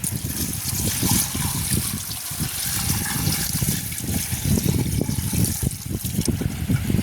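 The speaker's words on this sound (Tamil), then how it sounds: "சரி நாங்கள் அளவாக தண்ணியை விடுவோம் கோணம்பதி அவியறதுக்கு" Water pours and splashes steadily into a cooking pot nearby, a continuous trickling, gurgling flow with no voices.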